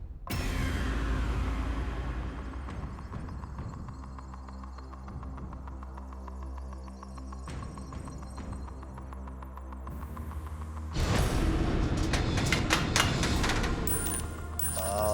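A Tipping Point counter-pushing arcade machine runs with a steady loud mechanical hum and throb, and a burst of clattering counters rises near the end, with no one talking.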